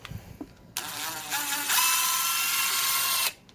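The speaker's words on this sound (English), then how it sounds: "That's why you don't use big impact drivers." A big cordless impact driver runs screws into a project box, a short burst followed by a longer steady whirring run of about two seconds, close and fairly loud, with no talking.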